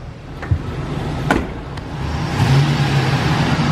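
A car engine runs close by at a low rumble, with a few sharp clicks and knocks as it is shifted into reverse, then revs up slightly; the car has no working gears.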